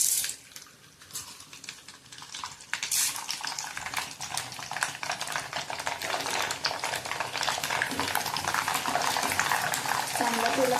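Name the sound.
nylon sabudana (sago) frying in oil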